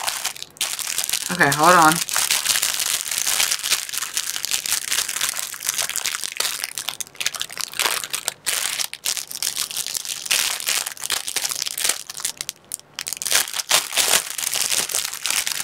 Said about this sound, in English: And, oh, that's tissue paper.